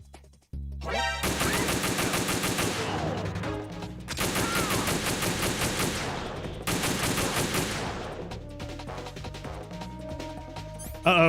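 Gunfire in the video game Metal Gear Solid 2: three long stretches of rapid, loud automatic shooting separated by brief pauses, then a quieter tail where a faint tone lingers.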